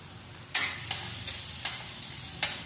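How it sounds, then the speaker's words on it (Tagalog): Garlic frying in hot oil in a wok, a soft steady sizzle broken by five sharp utensil scrapes or clinks spaced across a few seconds, close up with no voices. "Gigisahin na po natin dyan yung ating pong bawang."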